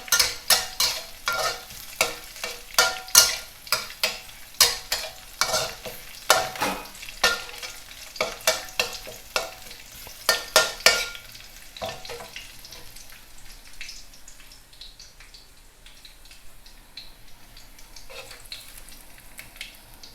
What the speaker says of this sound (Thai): ใส่กระเทียมเจียวลงไป เจียวให้หอมนะคะ